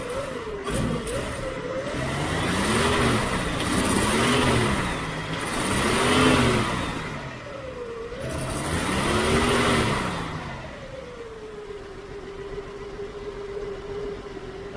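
A 1972 Chevy Nova engine with a slightly sticky throttle cable runs close by, revving up and down in several swelling pulls before settling into a steady idle, with no talking.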